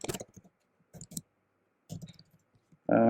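Keyboard keys typing out a line of Java code, quick clusters of close clicks in short bursts separated by pauses, with a louder burst at the very end.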